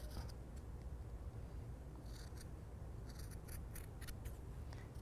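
Scissors trimming a paper piece for a gingerbread house holiday card holder, a few faint, quick snips in small clusters over a low steady room hum, no voices.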